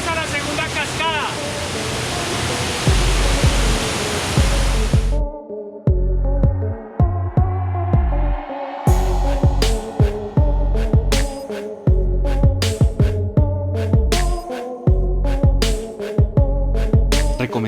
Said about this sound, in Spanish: Bienvenidos a la segunda cascada.